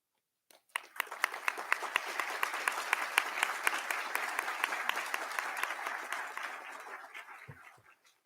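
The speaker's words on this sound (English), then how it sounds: "if you'll join me in recognizing them with some applause" Audience applause for nursing faculty at a nursing pledge ceremony: a sustained round of many hands clapping in a hall, rising quickly, holding steady, then tapering off, with no talk over it.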